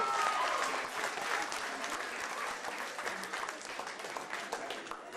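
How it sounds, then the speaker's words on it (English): A church congregation at a youth worship gathering claps together, a broad, even wave of applause that starts strong and slowly eases off, with no voices standing out. "Give the Lord a clap."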